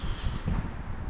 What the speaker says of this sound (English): Sorry about the wind, apologize.